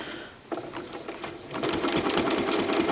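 A sewing machine stitches free-motion quilting guided by a ruler along a dahlia template, its rapid needle chatter starting softly and then running steadily louder and faster, close and continuous.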